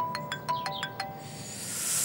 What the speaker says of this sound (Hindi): I'm sorry, मुझे कॉल लेना होगा।